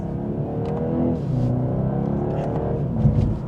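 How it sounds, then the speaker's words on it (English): A BMW 230i with Sport Plus mode engaged accelerates from inside the cabin, its engine a steady, rising drone with a low growl that holds throughout, close and moderately loud, with no talk. "So let's start off behind the wheel for the 230. Let's put it into sport mode, and we have it in Sport Plus"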